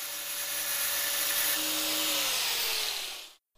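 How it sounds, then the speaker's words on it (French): A high-pitched whining grind as the original cable sleeve on a café racer motorcycle is ground down, one continuous close burst with slight pitch drops, stopping abruptly. "Je meule donc la douille originale."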